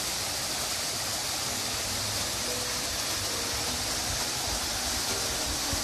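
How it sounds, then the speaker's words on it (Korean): A mountain valley stream rushes in a steady, broadband wash of flowing water beside a temple walking trail, continuous and fairly close, with no voices. "물놀이 소리 굉장히 시원하게 되어있어요."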